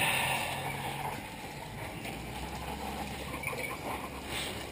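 Water sprays over a Yamaha FZ6 Fazer 600 motorcycle to rinse off degreaser, a steady hissing wash with splashing that stays close and even throughout.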